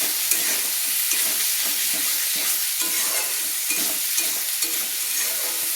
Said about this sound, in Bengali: দিয়ে আলুটা ভালো করে মশলার সঙ্গে দেখুন আমি কষিয়ে নিচ্ছি